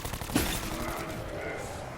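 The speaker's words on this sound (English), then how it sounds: "Here's where the pistol comes in handy." Pistol gunfire in Black Ops 4 zombies mode, loud sharp shots over busy game noise.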